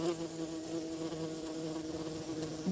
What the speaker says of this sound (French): on a prouvé la formation très récente d'une nouvelle espèce de moustique.